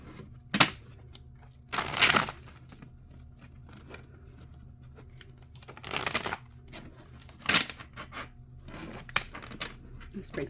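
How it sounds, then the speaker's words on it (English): Cards riffled together in a few quick bursts, crisp fluttering close by, with small taps and handling noises in the quiet gaps. "Last shuffle."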